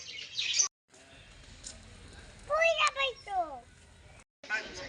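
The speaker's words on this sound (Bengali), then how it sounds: "এটা হচ্ছে ম্যাকাও পাখি।" A macaw calling from its cage at a zoo, a few sharp, harsh squawks in the middle of the clip, heard among people talking and the chatter of children nearby.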